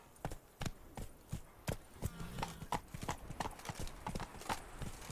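Roach, the horse in The Witcher 3, gallops with crisp, regular clip-clop hoofbeats, close and evenly paced, over quiet game ambience.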